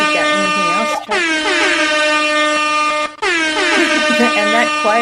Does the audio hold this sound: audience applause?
no